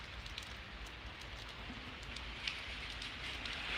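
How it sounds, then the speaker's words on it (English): Rain pours during a thunderstorm in Pittsburg, Kansas, with runoff streaming off a roof in a steady, moderately loud wash of splashing water and no speech. "most of the water that's coming down is what's coming off the roof"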